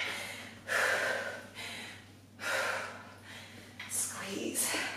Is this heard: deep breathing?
yes